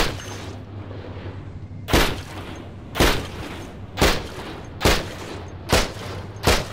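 Seven heavy gunshots fired at a big blob in Nosh Cataclysm, spaced roughly a second apart, each a loud booming burst standing alone over a low ambient hum.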